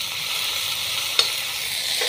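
Dal bubbles and sizzles steadily in a pot on the stove, a continuous close hiss with one brief sharp tick partway through and no voices.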